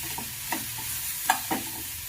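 Grated fresh coconut is stirred into beans frying in a pan, giving a soft steady sizzle broken by a few sharp spoon scrapes and clicks, close up with no talking.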